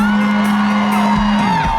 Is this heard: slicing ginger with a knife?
no